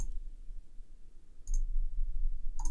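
Computer mouse clicks while deleting a folder in a Synology NAS file manager, a few sharp close clicks spaced apart over a quiet background hum.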